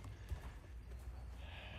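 A horse's hooves fall in soft, uneven steps during dressage lateral work done in hand from the ground. The few close hoofbeats are faint against quiet background noise.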